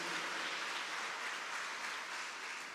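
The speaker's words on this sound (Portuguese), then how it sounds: "Dá uma salva de palmas bem forte para a palavra de Deus." A church congregation claps together in a steady, dense wash of applause that fills the whole moment, slightly distant and fading a little toward the end, with no voices on top.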